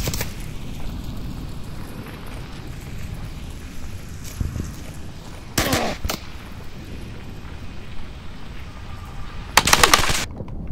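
A machine gun fired from the hip in a VR shooter: two short, loud bursts of rapid fire stand out against low rumbling ambience, one around the middle and a harsher one near the end.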